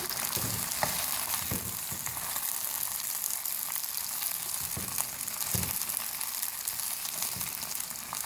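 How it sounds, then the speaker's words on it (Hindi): Okra, about 600 grams of it, fries in oil in a kadai, giving a steady, dense sizzle throughout with a few clinks and stirring scrapes, close up and with no one talking. "सबसे पहले हम भिंडियों को फ्राई करेंगे"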